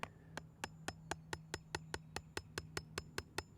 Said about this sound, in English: We drive it in with our hammer right where the cut is